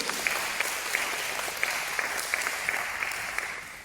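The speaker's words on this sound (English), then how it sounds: "So big round of applause to Lewis." Audience applause at an Australian citizenship ceremony celebrating Australia Day, a steady, fairly soft wash of many hands clapping with scattered sharper claps standing out, continuing throughout without talk over it.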